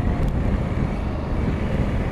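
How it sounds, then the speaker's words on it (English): A loud, constant roar of wind buffets a rider on a 2020 Honda Africa Twin CRF1100A motorcycle, a broadband rush that smothers everything else without letting up. "The wind is like kicking my ass as far as the noise."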